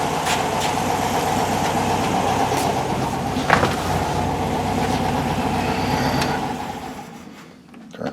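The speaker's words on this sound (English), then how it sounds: "I'll shut it off and see how she starts." A 1965 Volkswagen Beetle engine runs steadily at idle nearby, with a steady low rumble and a brief clatter partway through, then cuts out near the end before a sharp restart burst.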